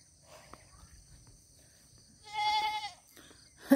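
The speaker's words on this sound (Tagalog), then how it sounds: "Yung kambing niya, buntis." A single pregnant goat on a farm in the Philippines bleats in the middle, a wavering cry over a faint background of insects chirping; quiet and somewhat distant.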